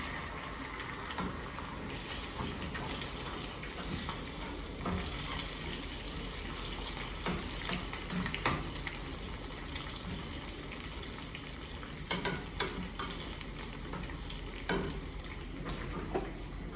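An egg fries in a pan with a steady, continuous sizzling hiss throughout and no voices.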